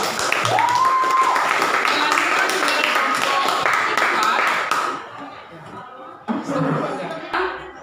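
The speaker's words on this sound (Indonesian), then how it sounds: "tepuk tangan untuk kelompok 2" A classroom applauds a student group, a dense spell of clapping for several seconds that fades out, followed by a few brief sounds and voices in the room.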